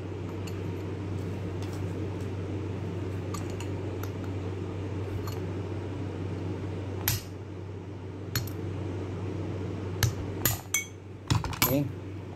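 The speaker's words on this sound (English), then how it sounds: "we need to punch this out again using our chisel, pointed chisel" Hammer strikes on a pointed chisel driving the blade shaft out of a Robot Coupe MP550 Ultra mixer: a few sharp metallic taps and clinks, bunched toward the end over a steady low machine hum.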